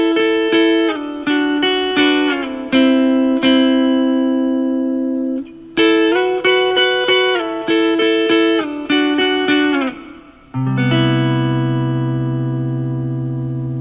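Electric guitar plays the intro to a song in double stops, with paired notes struck in short phrases, slides and sustained chords, clear and close with no talking.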